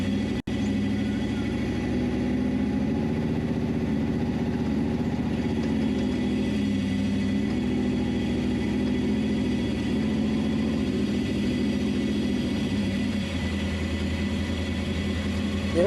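Race car engine at the King Shocks Nor Cal Final Joker Race, a steady low rumble idling close and loud while warming up, with slight shifts in pitch and no talk.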